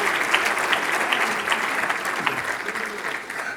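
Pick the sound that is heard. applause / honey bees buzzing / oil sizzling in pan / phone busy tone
applause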